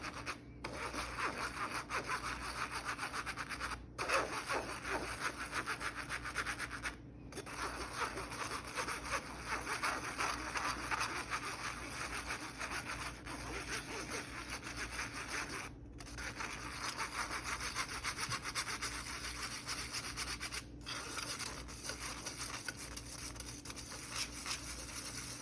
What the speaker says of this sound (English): you can use a rubber spatula or just tap the sides of the sifter to cause the ingredients to fall through, but I prefer using a spoon